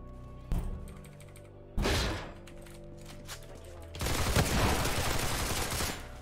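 Shotgun blasts in Roblox Criminality: two sharp booming shots with short decays, then a longer burst of heavy fire, over a steady game background.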